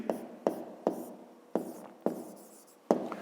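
Pen or chalk writing out a math calculation for a fifth-grade exercise, heard as six crisp, close strokes and taps at uneven intervals, each fading quickly, with no talking.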